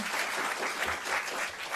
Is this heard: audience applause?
yes